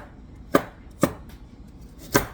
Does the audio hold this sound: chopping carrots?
yes